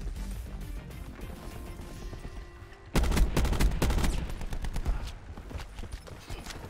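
Rapid bursts of automatic gunfire in the video game Call of Duty Black Ops 4, loud clustered shots over a busy multiplayer battle background.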